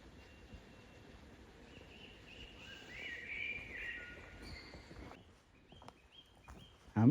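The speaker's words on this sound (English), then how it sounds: "we've got bird song still" Woodland birds chirp and trill in short bursts above a soft outdoor hum, mostly faint and at a distance, in West Woods along the Ridgeway, with a louder rustle at the very end.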